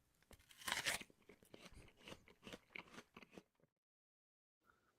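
Crisp crunching of a fresh apple being bitten and chewed close to the mic, a cluster of sharp crunches followed by quieter chewing that fades into silence, with a faint sound at the very end.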